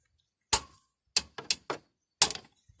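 Sharp, close knocks as the cylinder head is tapped into place on a Honda Wave 110i motorcycle engine: about six separate hits at an uneven pace, some doubled, with silence between them.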